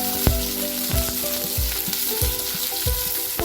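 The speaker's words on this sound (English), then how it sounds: "And then we'll add our chopped onions. And then we'll stir it." Chopped onions fry with whole spices and black pepper in a hot pan, a loud dense sizzle with repeated thumps and scrapes of stirring at a regular pace.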